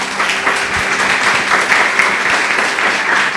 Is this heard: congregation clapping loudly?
yes